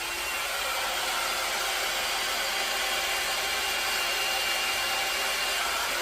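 A handheld hair dryer blows in a steady, close whoosh of broadband air noise that holds evenly without pause, used while styling an abstract cello-themed creation.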